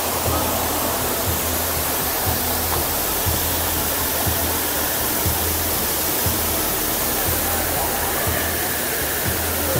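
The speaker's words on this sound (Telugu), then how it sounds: "Enjoy water fall." Chenge Waterfalls near Kalimpong roars steadily, a dense, loud rushing wash of water that fills the whole scene without pause.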